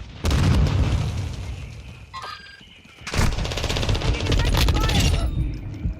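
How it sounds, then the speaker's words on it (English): A grenade explodes in Modern Warfare II multiplayer amid bursts of gunfire, with loud booms and rattling shots in two dense clusters, and a short lull between them. "Throwing grenade."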